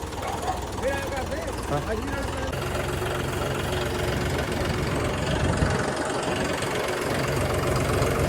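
A John Deere 5210 tractor engine idles with a steady low rumble close by, while people talk over it throughout.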